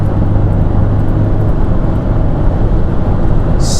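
A diesel Fiat Grande Punto accelerates hard in third gear from about 50 mph, giving a loud, steady engine drone with road and wind roar from inside the car.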